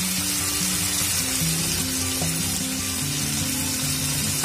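Cumin seeds sizzle as they fry in a pan, a dense, continuous crackling hiss, close and steady throughout with no voices.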